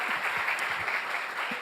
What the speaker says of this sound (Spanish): Yo creo que se merece un aplauso por eso.